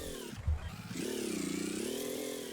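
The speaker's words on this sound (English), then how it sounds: "Hopefully the engine note isn't too loud" A vehicle engine in the video game Gear Blocks: a brief rev, then a steady buzzing drone at moderate volume that rises and then holds.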